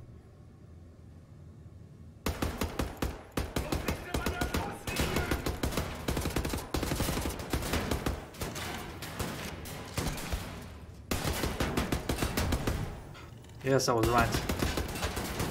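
Rapid bursts of gunfire shooting at cans in the video game Wolfenstein: The New Order, loud and repeated in clusters while someone talks over the shots.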